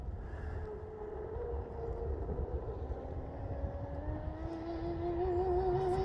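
An RC speedboat on 6S batteries accelerates to high speed, its motor whine rising steadily in pitch over a broad rushing wash of water and wind, growing louder toward the end, with no talking.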